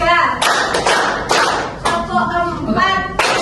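Students clap together on cue in an elementary school classroom, sounding a handful of sharp, unison claps with short pauses between them, while voices call out in the gaps.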